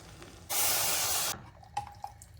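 Water poured into washed rice in a pressure cooker for a jackfruit pulao, a loud hissing gush lasting just under a second, followed by a few faint clinks.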